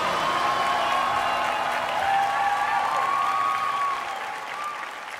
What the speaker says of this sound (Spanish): Un aplauso para estos musicazos, por favor.